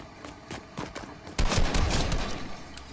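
Bursts of gunfire in a multiplayer battle-royale video game, starting as sparse, distant pops and then erupting into a loud, sustained volley of rapid shots.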